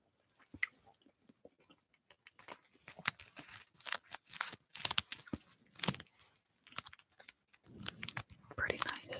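Orbit gum chewed close to the microphone in an ASMR setting, with moist smacks and crunchy clicks in an irregular rhythm alongside whispering and other soft handling noises.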